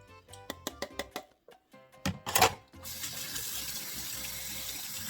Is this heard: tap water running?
yes